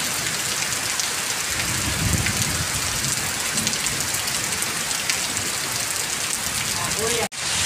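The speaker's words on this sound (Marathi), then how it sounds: "वादळ वार सुटलं र. वाऱ्यानं तुफान उठलं र." Steady heavy rain with gusting wind sweeps continuously across an open outdoor spot, a dense, unbroken roar with no pauses, cut off by a brief dropout near the end.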